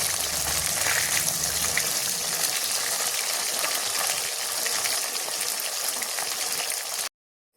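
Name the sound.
fish frying in a pan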